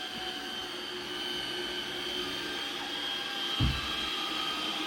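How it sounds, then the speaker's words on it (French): An Ultenic T10 robot vacuum cleaner runs steadily across the floor, giving a constant whirring motor drone with a high whine. A brief low thump comes near the end, and no one speaks. "ça aspirait déjà plein de choses qu'il y avait au sol sans aucun problème"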